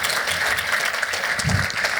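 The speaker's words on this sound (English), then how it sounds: "Applause for Steve." An audience at a Crossmedia Toronto conference session applauds the speaker Steve, a steady wash of clapping from a room full of people that holds at an even, fairly loud level throughout.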